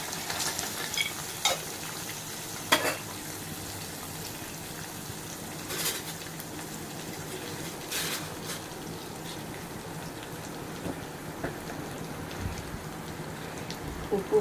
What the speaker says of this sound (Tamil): இதை நல்லா வதக்கி விடணும். அப்புறம் வேர்க்கடலை போடணும்.